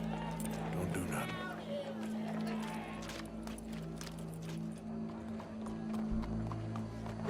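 Horse hooves clip-clop in the Red Dead Redemption 2 video game, a running beat of hoof strikes under voices and crowd murmur, with a brief whinny.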